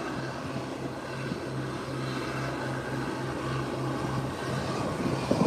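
A Cessna 402 taxiing out at an airport gives a steady, moderately loud engine drone with a low hum throughout, rising slightly at the end, with no voices.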